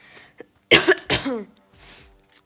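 Two or three harsh, close coughs in quick succession, followed by a softer breathy exhale.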